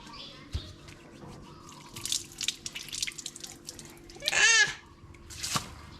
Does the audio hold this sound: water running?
yes